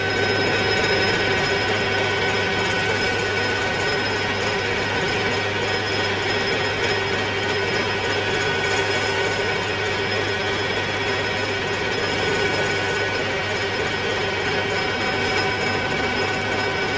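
Metal machining of a bearing with a carbide cutting insert on a lathe, for Malossi scooter engine parts on a 100cc Zip: a steady, dense grinding and whirring hum with scraping texture, continuous and fairly loud throughout, no talking.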